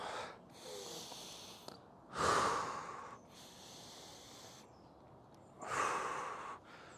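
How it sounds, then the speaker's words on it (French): Slow, deep breaths in and out during a dumbbell warm-up, two loud breathy exhales standing out clearly against quieter inhales and a soft background, close to the mic with no talking. "Inspirez et soufflez tranquillement"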